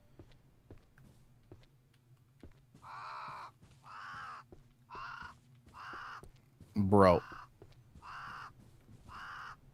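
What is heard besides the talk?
crow cawing in a video game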